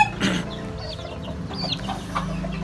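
A gamefowl hen of the Sweater Escolin line, about six months old, clucks in a few short, close bursts amid soft rustling and faint background noise.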